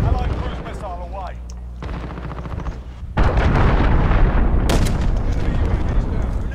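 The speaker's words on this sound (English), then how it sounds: "Allied cruise missile away." A heavy cruise missile strike in the shooter game Modern Warfare detonates into a loud, sustained rumbling roar of explosions and gunfire, with a sharp blast after it, following quieter game sounds and effects.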